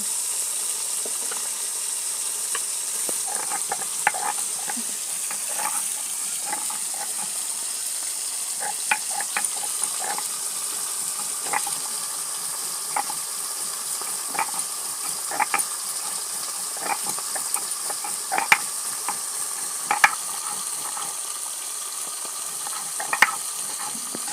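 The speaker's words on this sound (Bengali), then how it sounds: "এই যে মাছ লাল লাল করে ভেজে ভেজে নিচ্ছি" Bata fish frying in a pan makes a continuous bright sizzle, dotted throughout with light irregular clicks and taps from utensils, steady and close with no speech.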